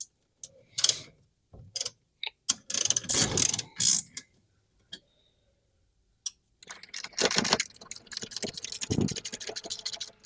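A ratchet tightens 10 mm bolts on the steering column of a Yamaha Viking during an electric power steering install, giving close, sharp bursts of rapid clicking separated by short pauses, with a longer steady run of clicks near the end.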